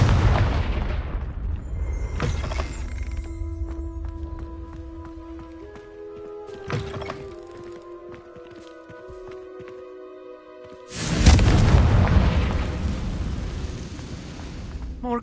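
Booming spell explosions from Confringo in the Hogwarts Legacy video game, a heavy blast at the start and another loud burst near the end, separated by softer magical tones and ringing effects, with no talking.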